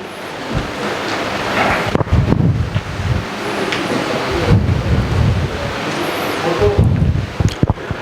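Steady, dense applause from an audience welcoming guests at the inaugural session of an AICTE ATAL faculty development programme on sustainable additive manufacturing. The clapping is sustained and fairly loud throughout, with no talking.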